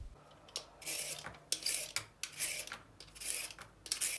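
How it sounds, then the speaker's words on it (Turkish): Carrots being peeled, a series of short, soft scraping rasps repeating in an uneven rhythm, close by and fairly quiet with no talking. "Havuçları soyalım arkadaşlar."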